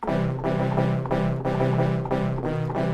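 A synthesized horn-like instrument built from seashell samples plays a steady run of sustained, hollow tones with soft plucked attacks, pitched notes shifting rhythmically, alone and fairly loud.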